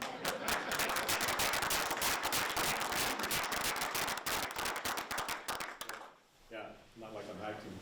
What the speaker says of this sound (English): And yes, you can clap, because I am happy about it.